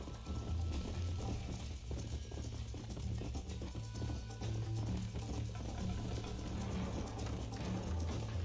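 A horse gallops in Red Dead Redemption, its hooves pounding out a steady, continuous rhythm at close range with a low rumble underneath and no voices.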